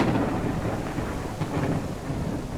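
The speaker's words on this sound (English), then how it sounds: "I've never heard thunder during the middle of a freaking snowstorm." Rumbling thunder rolls continuously through a steady wash of rain during a snowstorm in the video game Snow Plowing Simulator, loud and unbroken with no voices.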